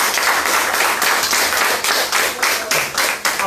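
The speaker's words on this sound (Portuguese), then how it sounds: "Será que você pode aplaudir o nome de Jesus?" A church congregation claps together at a Sunday service, a dense, steady wash of many hands with a few stronger rhythmic beats rising from it, filling the room at full volume.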